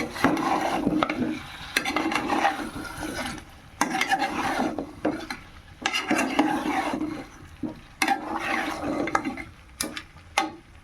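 Fried potatoes stirred into spice masala in a pan, a rhythmic scraping and rasping of a spoon against the pan in repeated close strokes, with brief pauses between strokes.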